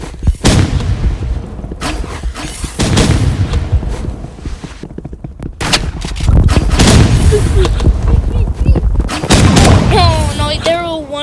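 Rifle gunfire in a video game: repeated sharp shots and bursts, loud and close, run through most of the stretch, mixed with game effects and a few chirping tones near the end, with voices talking over the action.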